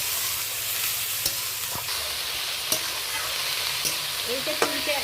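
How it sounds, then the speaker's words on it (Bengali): Carrot, onion, chopped chili and cucumber stirred in a frying pan, a soft steady sizzle with occasional sharp clicks of a spatula scraping the pan, close and alone. "গাজর, পেঁয়াজ, লঙ্কা কুচি আর শসা ভালো করে আমি 2-3 মিনিট ধরে নেড়ে মিশিয়ে নিচ্ছি।"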